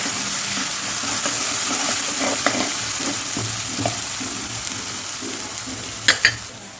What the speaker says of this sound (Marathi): वाटण टाकल्यानंतर आणि वाटण छान असं फ्राय करून घ्यायचं